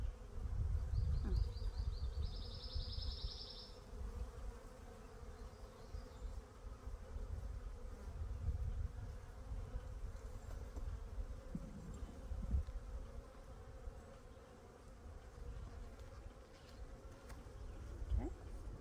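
Honey bees humming in an opened backyard hive being moved into a duplex, a continuous low drone of many bees close by, with faint scattered rustles and no talk.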